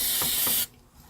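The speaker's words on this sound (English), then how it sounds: "This is the only time I spray in the hoop." Spray adhesive hisses in a strong, steady burst onto fabric stretched in an embroidery hoop, lasting about half a second before cutting off abruptly into near silence.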